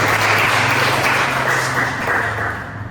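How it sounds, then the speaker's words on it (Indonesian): A classroom audience claps together in a steady, dense burst that starts loud and gradually thins out toward the end, with no talking over it. "tepuk tangan buat"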